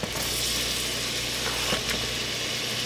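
Onions hit hot oil and sizzle loudly and continuously in a pan, a dense frying hiss with no talking.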